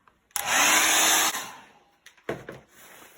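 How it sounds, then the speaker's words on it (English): Hairdryer blasting at wet paint for a kids' painting demo, switched on for about a second of loud, steady rushing air, then a short second burst after a pause, with no talking. "Perhaps first we ought to give it the hairdryer treatment."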